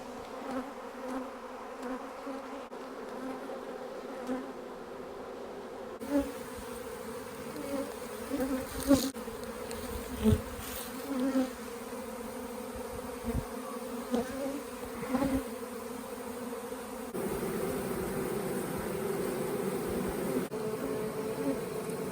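Honey bees swarming around a bucket catcher at a farm apiary, a steady close buzzing drone of many insects that thickens and grows louder toward the end, with a few knocks and bumps.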